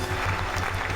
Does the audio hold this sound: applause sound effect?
yes